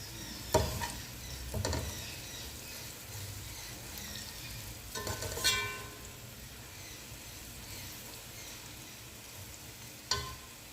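Dry-roasted whole spices being stirred and fried in a pan for masala pulao, a quiet sizzle with a few scrapes and clatters of the spoon at intervals.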